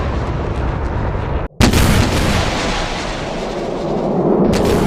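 Exocet anti-ship missiles launching on solid rocket motors in a naval video game: a loud, sustained roaring blast that cuts out for a split second, then bursts back in and keeps thundering.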